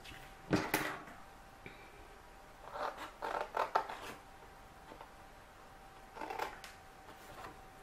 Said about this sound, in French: on va commencer par découper les deux petits rectangles qui sont de chaque côté.